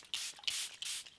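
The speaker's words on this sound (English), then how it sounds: "Gonna do a little setting spray. I'm gonna use my favorite, the Charlotte Tilbury Airbrush." Three quick hissing pumps of Charlotte Tilbury Airbrush setting spray misted from a bottle, close and crisp, each burst brief and evenly spaced, with no talking.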